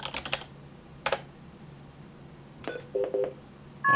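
Keys tapped on a TTY keyboard while placing a TTY-to-voice relay call, a few scattered clicks mixed with short electronic tones and beeps, fairly quiet with no talking.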